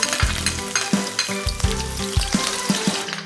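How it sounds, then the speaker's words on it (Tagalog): Chopped onion and garlic sizzle in hot olive oil in a pan, the close, steady frying broken by repeated scrapes and stirring strokes at a quick rhythm. "We have to add saute the garlic and the onion."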